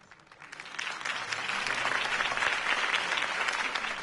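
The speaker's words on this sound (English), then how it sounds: "If only Mr. Wayne, my campaign's largest backer, could have heard that applause" Steady applause from a large video game crowd swells in and holds, dense clapping filling the whole stretch with no voices.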